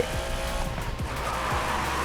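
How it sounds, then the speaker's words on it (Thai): An Aston Martin Valhalla in the mobile racing game Racing Master roars with a continuous engine note, with tire squeal and skidding mixed in as the car drives hard. "ถ้าเป็นมุมข้างหน้ามันมีเสียงเครื่องยนต์อีกเสียงหนึ่งว่ะ"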